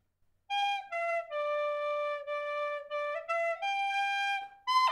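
Tin whistle played alone, close and clear, a short tune of sustained pure notes moving stepwise through two grouped phrases, with brief breath gaps between notes.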